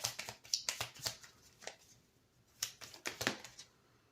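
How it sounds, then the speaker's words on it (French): Tarot cards are handled and drawn from a deck in quiet, crisp shuffling and flicking bursts, close and soft, with a pause in the middle. "Je vais juste tirer une autre carte."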